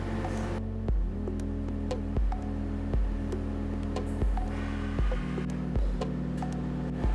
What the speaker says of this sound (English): This machine takes the edge from a flange and rolls it over so we don't get any sharp edges